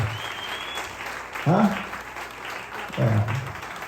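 Applause from guests at a 60th birthday ball in Cachanga, a steady patter of clapping with voices speaking over it in short bursts.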